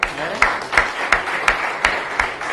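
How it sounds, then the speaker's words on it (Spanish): Applause from an audience at a talk, a broad wash of crowd clapping with strong rhythmic unison beats about every 0.35 seconds, steady and fairly close. "pero le regalamos a Nico un fuerte aplauso"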